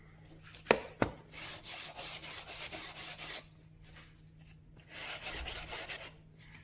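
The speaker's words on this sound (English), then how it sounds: "So I'm sanding this, just going up onto the polish" Hand sanding on a wooden camera plate holder, working up to the polished surface: rhythmic rasping strokes in bursts, with a couple of sharp knocks early on and short pauses between passes.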